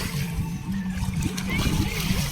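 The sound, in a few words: splash of someone dipping into the sea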